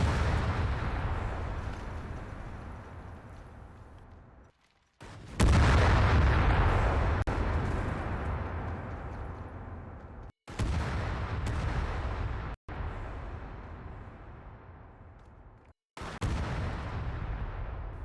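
Dynamite detonations in the game Astroneer: a series of heavy, booming blasts, each hitting suddenly and rolling off into a long decaying rumble, with about five loud explosions spaced a few seconds apart.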